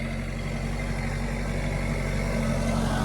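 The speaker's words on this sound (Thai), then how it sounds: "นี่รถไถนาทุกคน เขามาปั่นให้เรียบร้อยแล้วทุกคนนี่ไง" Steady, droning engine of a farm tractor tilling a flooded rice paddy, heard close and continuous with a deep low rumble and no voices over it.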